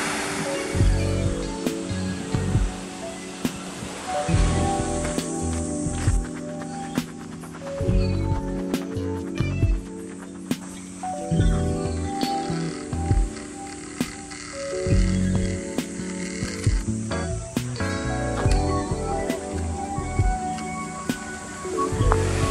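Ocean swell breaking as shore break at a surf point with calm wind, steady loud surf wash with repeated rhythmic surges and some clattering, no talk.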